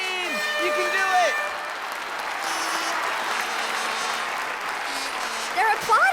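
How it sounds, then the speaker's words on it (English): A crowd applauds at a French sporting event, a steady wash of clapping held at moderate volume while voices speak over it. "They're applauding us."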